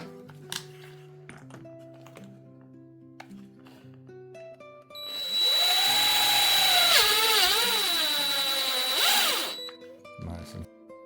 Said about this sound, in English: So I'm going to drill it right in the center.